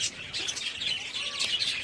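Many budgerigars chirp and tweet continuously in a busy, overlapping chorus, fairly close, with no talking.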